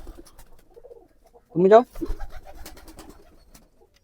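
A pigeon on a farm gives one short, fairly loud coo that stands out near the middle, framed by a person talking before and after it.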